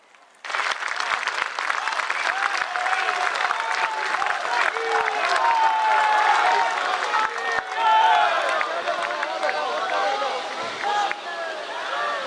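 Large crowd at a rally for the Prime Minister at a 125th birth anniversary event for Netaji Subhas Chandra Bose in Kolkata, breaking into loud sustained applause and cheering with shouts and babble that continues for many seconds.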